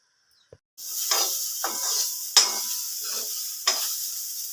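Peas, chickpeas and field beans sizzle loudly in hot oil, the steady hiss starting abruptly and broken by four or five scraping stirs of a spoon through the pan.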